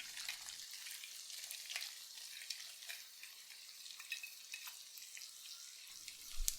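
Shallots sizzle steadily in a hot pan, a continuous crackling hiss with small pops, close and fairly quiet, with no talking.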